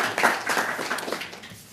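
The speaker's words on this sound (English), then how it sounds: "So I think we all can give him a big round of applause." A short burst of applause from a small group at a parliamentary committee meeting, scattered clapping that gradually tapers off.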